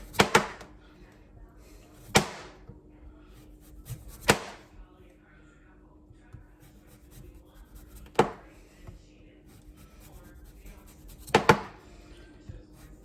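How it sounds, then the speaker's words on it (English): A knife shaves the skin off a vegetable along its contour for a Green Bay booyah, sharp scraping strokes spaced a few seconds apart over quiet background. "You can always use your knife and take it off."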